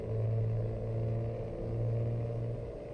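A simulated truck engine in American Truck Simulator drones loudly and close, a steady low tonal rumble with slight rises and dips in pitch as it revs and shifts, with no talking.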